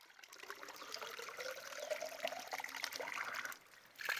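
A traditional bamboo water spout pest repeller, a pancuran sayong, in a rural setting, trickling steadily and faintly throughout with no voices.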